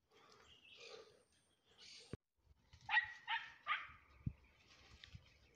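Hunting dogs bark in a forest during a hunt for tegu lizards, a few sharp barks close together at moderate distance, with faint rustling around them and no talk.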